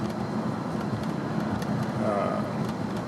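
Steady interior road noise from a Hyundai Sonata SEL cruising a curving local road, a constant broadband rumble and tire hum with no pauses, close and moderately loud.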